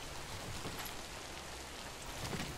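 Steady rain pours in the video game Death Stranding, a dense, even hiss of drops on surfaces that holds at a soft level throughout with no thunder or voices.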